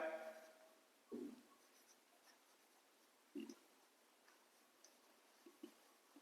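A marker writes words on a board during a lesson, giving a few short, soft squeaky strokes separated by pauses, faint over a quiet room, with no talking.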